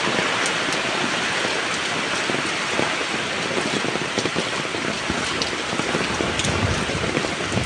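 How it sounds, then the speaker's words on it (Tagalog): Heavy, unbroken rain pours down steadily and loudly during flooding in Narra, Palawan, brought by the shear line and northeast monsoon, with no voices over it. "Lakas ng ulan, walang tigil."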